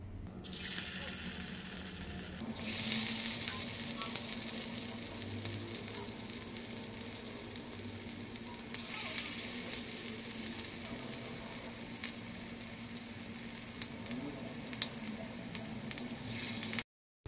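Sabudana vada fry in hot oil with a dense, steady sizzle throughout, close and fairly loud, with a brief stirring or lifting disturbance near the start and no talking.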